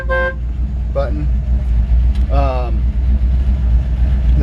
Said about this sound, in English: Nice old school horn button.